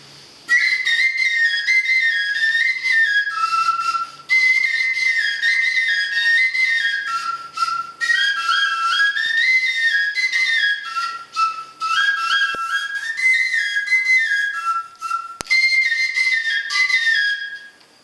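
A high, breathy Andean flute made of condor bone plays a wavering melody of short and sustained notes, loud and close, with brief breaths between phrases.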